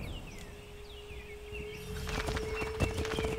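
Horse hooves clip-clop in a steady trot in the video game Assassin's Creed III, joined by bird calls, over a constant low hum; the hoofbeats grow louder and busier toward the end.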